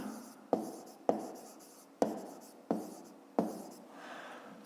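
Pen strokes writing numbers by hand on paper during a grade 5 math exercise: five distinct scratchy strokes at a steady pace, close and quiet, with a faint soft rustle after the last one.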